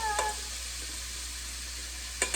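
Green pepper, onion and celery sauté in olive oil in a Dutch oven for jambalaya, a steady soft sizzle throughout with a couple of brief stirring scrapes at the start and end, no voices.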